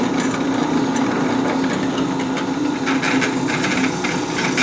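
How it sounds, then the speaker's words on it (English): A drill bores through forged metal for a blacksmith-made herb drying rack, giving a steady, continuous whine with grinding, scraping texture, close and fairly loud, with no talk. "We'll be able to drill this on it."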